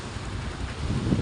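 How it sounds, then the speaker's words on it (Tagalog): Strong wind gusts buffet the microphone outdoors during a storm, a steady loud roar with no voices. "Ang ganda oh, mahangin."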